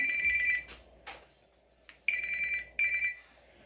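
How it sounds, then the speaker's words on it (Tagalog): A phone ringtone bursts out during a mahjong game in Colorado: bright repeated electronic tones in short clusters separated by pauses and a few sharp clicks, fairly close and alone without talk. "Grabe namang ringtone niya."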